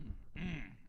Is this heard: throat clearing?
yes